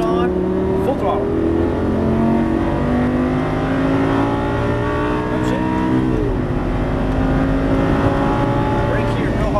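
A Lamborghini Superleggera at full throttle on a racetrack, its engine rising steadily in pitch through the gears with a loud, continuous roar close to the listener, while an instructor talks over it.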